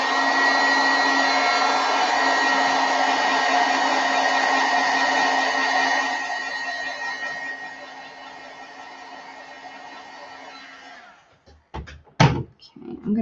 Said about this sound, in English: I am gonna heat set that just a little minute.